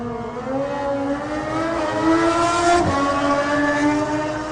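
A Triumph supersport motorcycle races past on the Isle of Man TT course, its engine a loud, high, rising howl that peaks and drops in pitch as it passes close by.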